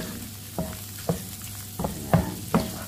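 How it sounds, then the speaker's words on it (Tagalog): Shrimp and chayote sautéing in olive oil, a soft continuous sizzle broken by several sharp utensil scrapes and stirring knocks at irregular intervals, close by with no talk. "ginisa lang natin siya sa olive oil"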